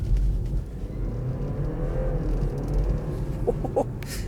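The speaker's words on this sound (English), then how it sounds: "Those gear changes are very, very quick." A BMW 330e accelerates on a B road with quick gear changes, steady engine and road noise throughout, brief shifts near the end, close inside the car.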